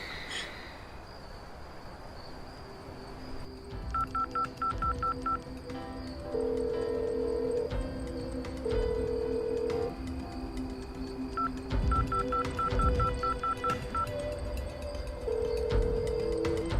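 DTMF keypad tones on a phone, two bursts of rapid evenly spaced beeps over a steady background hum and insect-like chirping, with longer held tones between them while a call is being placed.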